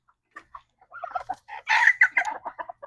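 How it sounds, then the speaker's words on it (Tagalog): A pair of white chickens cluck and squawk close by in short, uneven bursts, rising to a louder run of calls midway. "Yung puti kong manok dalawa."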